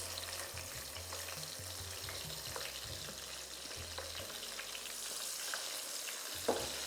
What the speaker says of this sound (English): So now let's fry our onions.